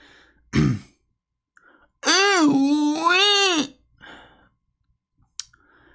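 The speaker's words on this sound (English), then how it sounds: "You always gotta clear your throat." A short gruff throat clearing, followed by a long, loud drawn-out vocal groan with a rising and falling pitch, then a breath and soft clicks.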